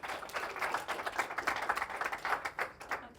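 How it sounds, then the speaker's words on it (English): Applause from a pitch event audience, a steady patter of many hands clapping at moderate volume for about three seconds, with no voices. "big round of applause"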